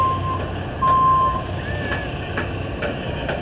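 Truck reversing at a Topeka, Kansas dirt-track race pit area, its loud backup beeps repeating over an engine rumble while it pushes a race car in.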